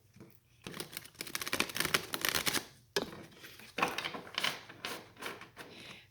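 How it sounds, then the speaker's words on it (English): Cards riffle and flutter in quick rapid bursts, close and fairly quiet, with a brief pause between shuffles. "I'm just going to go ahead and start shuffling the cards"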